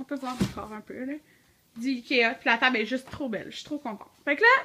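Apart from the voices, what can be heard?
No distinct noise like a dog, phone or traffic.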